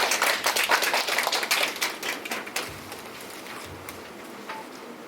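Audience applause at the close of a university innovation program results-sharing presentation, a dense patter of many hands clapping loudly at first, then thinning and fading to a sparse, quiet room.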